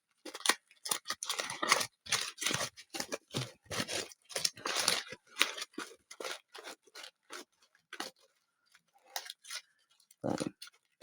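Paper being scrunched and crumpled by hand to soften it into faux fabric, heard as close, irregular bursts of crinkling and rustling with brief pauses between squeezes.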